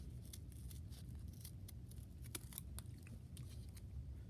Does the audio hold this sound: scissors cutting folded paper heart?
yes